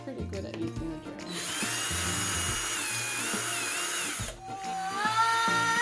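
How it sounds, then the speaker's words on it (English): An electric drill whirs steadily for about three seconds, stops, then starts up again, while people talk in the background. "He's pretty good at using the drill."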